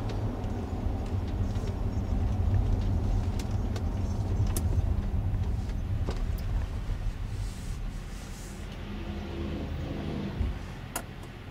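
A car drives through light evening traffic, its steady road and engine rumble continuous and fairly quiet, with occasional faint clicks and brief passing swells.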